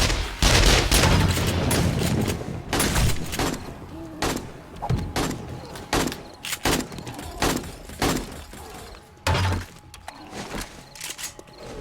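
Turret gunfire in the 7 Days to Die survival game: repeated sharp bursts of shots in irregular clusters, loud and close, with game sounds between volleys.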